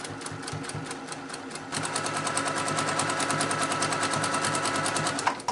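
A sewing machine back stitching a quarter-inch seam, running with a steady rapid needle rhythm that picks up speed partway through, close and continuous.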